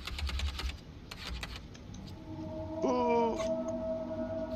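Computer keyboard keys clatter in a quick cluster of taps while a PC game plays, followed by quieter scattered presses under tonal game music.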